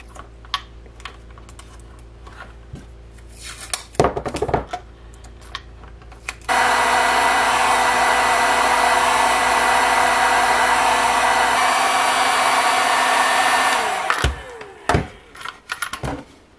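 A heat gun blows hot air onto a holster being reshaped for a better fit, a loud steady roar lasting several seconds, framed by clicks and handling knocks before and after.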